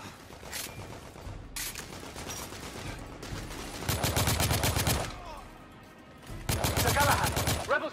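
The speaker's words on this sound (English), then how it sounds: "Gunshots." Gunfire in the video game The Order: 1886 comes in loud bursts, with a few isolated shots and then two sustained rapid volleys that sound like automatic fire, set against a busy background.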